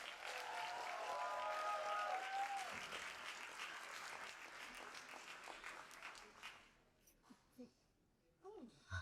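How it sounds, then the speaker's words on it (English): Applause from the audience at a college AAPI graduation ceremony, broad and steady clapping with a few whoops that fades out after about six seconds into quiet room noise and small scattered sounds. "Let's go ahead and give a round of applause to Julie V."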